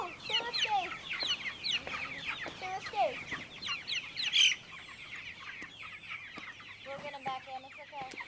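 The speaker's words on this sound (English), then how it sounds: "This is the chicks' third day of moving from spot to spot while walking along with the chicken tractor." Chicks and hens cluck and cheep continuously beside a chicken tractor outdoors, a busy overlapping chorus of soft clucks and high peeps, fairly close, with brief sharper calls.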